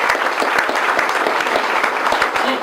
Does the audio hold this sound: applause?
yes